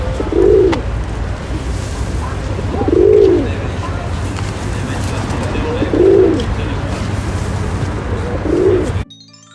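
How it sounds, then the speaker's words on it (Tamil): Pigeon cooing, four soft, low, rounded coos spaced a few seconds apart over a steady background hum, fairly close but gentle. "புறா குணுகும்."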